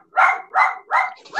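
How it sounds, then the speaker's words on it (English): Dog barking, three loud close barks in an even rhythm with a fourth starting, each a sharp mid-pitched woof with short pauses between, no talk over it. "if you hear a dog bark like that, don't worry"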